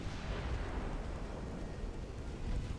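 Warship secondary guns firing during a naval battle at North Cape in Ultimate Admiral: Dreadnoughts, heard as a dense, continuous wall of booming gunfire and rumbling explosions with no break and no talking.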